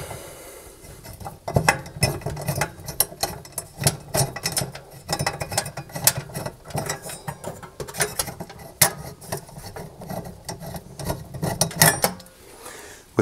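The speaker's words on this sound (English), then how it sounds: "I'm just going to use a nut spinner to undo this nut and take the fan off" A nut spinner turns and undoes the fan motor nut inside a Rangemaster cooker oven, producing a close, irregular run of light metallic clicks, ratcheting and scraping taps that continue steadily throughout.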